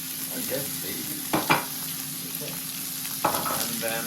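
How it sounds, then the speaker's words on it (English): Onions fry in a pan with ginger and garlic, giving a steady dense sizzle with a few soft stirring knocks and scrapes over the top, close and continuous. "let's get the things sizzling. Okay, so let's add the onions first"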